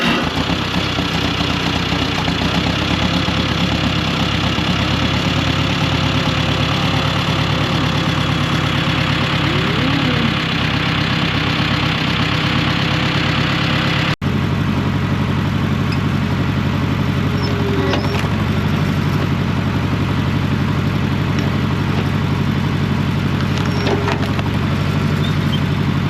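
The small engine on a homemade log splitter runs continuously, a loud, steady, close mechanical drone with a faint brief knock midway and no speech over it.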